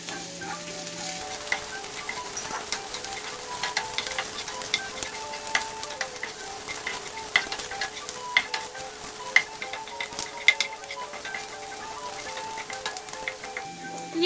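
Beef liver fries with a little ginger paste, sizzling steadily with frequent sharp scrapes and clicks of stirring across the pan, moderately close and without speech.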